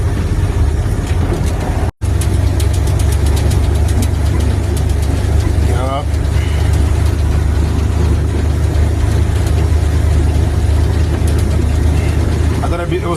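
A hot rod engine runs steadily with a deep, loud rumble throughout, broken by a brief cutout near the start.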